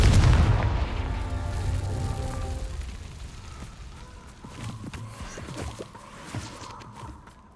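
A Confringo fire spell explodes in the Hogwarts Legacy game, opening with a heavy booming blast that rolls off into rumbling debris and scattered clatter, no talking.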